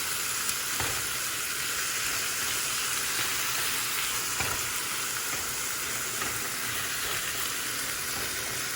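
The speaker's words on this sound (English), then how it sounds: "so let it saute for a couple minutes" Scallions (green onions) sauteing and lightly scorching in a pan while ackee and saltfish is being cooked, a steady, close, hissing sizzle with faint stirring scrapes throughout.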